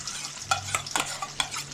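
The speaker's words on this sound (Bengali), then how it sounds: "এই আচার পড়লো, এবার মিশিয়ে দেবো এর সাথে।" Mango pickle being stirred into cooking chicken in a pan, producing a few scraping strokes over a low background sizzle, close and fairly quiet.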